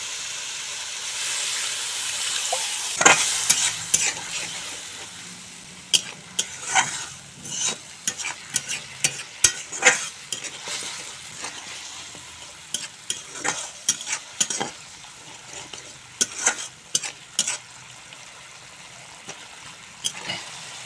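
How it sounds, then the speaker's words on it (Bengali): Ginger-garlic and tomato spice paste with a little water being sautéed in a pan, a hissing sizzle under frequent rhythmic scraping and tapping of a spatula, close and fairly loud, continuing steadily without speech. "এখন সামান্য জল দিয়ে মশলা ভালো করে কষিয়ে নেব"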